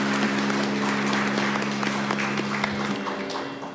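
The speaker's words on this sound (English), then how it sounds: "Please give us a huge round of applause for our wonderful vocalists." Applause from the audience at a Bharatanatyam arangetram recital honors the vocalists. A dense, sustained wash of many hands clapping fills the hall, with a low steady hum underneath, and it slowly tapers off toward the end.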